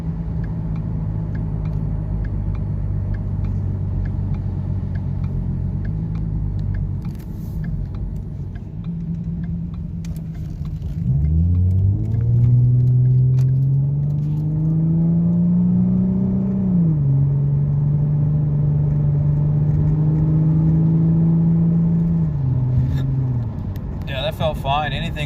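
A 2014 Ford Mustang with a 3.7 V6 and an SCT X4 tune accelerates on a road, the engine droning low and then rising in pitch through a gear change. The rumble stays steady and close from inside the car.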